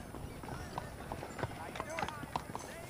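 Horse hooves clip-clop in the Red Dead Redemption video game, a quick, quiet run of clattering hoofbeats beneath game speech and background ambience.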